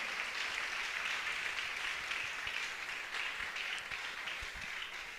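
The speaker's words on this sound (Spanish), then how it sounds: "Aplausos a Él con todo el corazón." A church congregation applauds during a worship service, steady dense clapping from many hands holding an even level throughout, with no talk over it.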